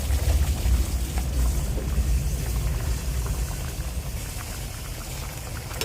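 Rohu fish head goes into mung dal cooking in a pan, giving a steady bubbling sizzle and liquid churn that stays close and continuous, gradually easing slightly.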